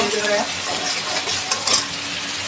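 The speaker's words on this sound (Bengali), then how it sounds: "ভালোভাবে কষিয়ে নেব।" Fish curry masala being stir-fried in mustard oil with onion and green chilli, a steady close sizzle broken by scraping stirs of a spoon against the pan, with no talking.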